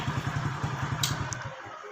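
A motorcycle engine idling nearby with a steady, rapid low thumping that fades out near the end, accompanied by a faint brief clatter and no talking.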